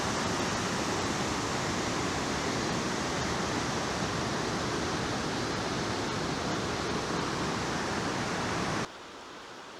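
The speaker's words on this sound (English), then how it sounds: "And these are the two waterfalls that you saw yesterday." Two waterfalls at Fall Creek Falls in Tennessee on a winter day, heard from across the gorge as a steady, dense roar of rushing water that fills the scene without pause, then drops away abruptly just before the end.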